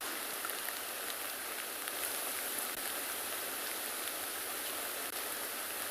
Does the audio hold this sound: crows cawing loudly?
no